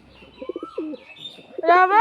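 Bangladeshi pigeons coo in short throaty bursts, close by, with a few chirps and a voice briefly speaking at the end.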